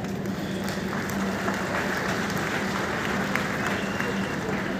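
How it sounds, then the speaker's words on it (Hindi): An audience claps throughout, a dense, steady wash of applause at moderate loudness that is sustained without pause, with a crowd murmuring faintly beneath it. "आप तक पहुंचे तो मुझे आपकी तालियां चाहिए।"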